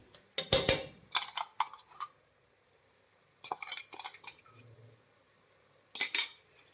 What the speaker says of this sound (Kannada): ನಾವು ಮೊದಲಿಗೆ ಮೆಣಸಿನ್ಕಾಯಿ ಗ್ರೈಂಡ್ ಮಾಡ್ಕೊಂಡ್ವಲ್ಲ, ಅದನ್ನು ಹಾಕ್ತಾ ಇದ್ದೀನಿ